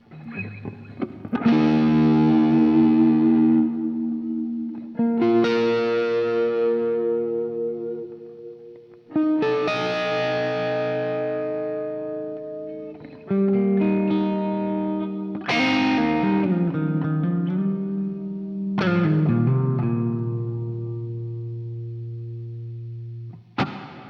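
Electric guitar chords played through a reverb effects pedal ring out one at a time with heavy reverb, each strum swelling and decaying into a wash, with small string squeaks between.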